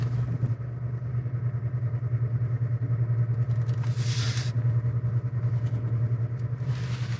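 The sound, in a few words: 2023 Chevy Colorado Trail Boss driving off-road in off-road mode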